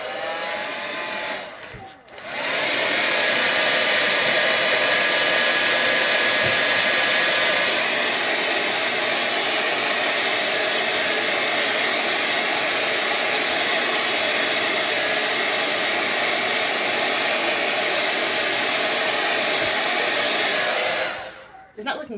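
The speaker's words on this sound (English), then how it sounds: "Blow dryer." A hair dryer blows steadily at close range to dry wet paint on a mixed media art card, a loud continuous whoosh running about twenty seconds after a brief handling noise, then cutting off.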